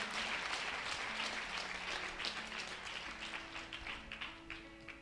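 A church congregation applauds steadily in a reverberant hall, with dense, sustained clapping throughout and a faint hum beneath.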